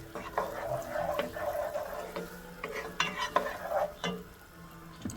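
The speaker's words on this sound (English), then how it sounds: "So I'm gonna saute the onions till nice and translucent." Onions sautéing in a pan for creamed corn: a spatula stirs and scrapes in repeated bursts over a moderate sizzle, close and fairly loud.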